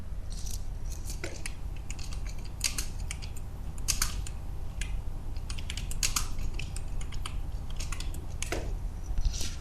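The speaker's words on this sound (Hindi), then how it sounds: "मैं आपके सामने टाइप करता हूँ।" Someone types on a computer keyboard, producing a steady run of crisp, close clicks in irregular bursts with short pauses between, alone with no voices over a low background hum.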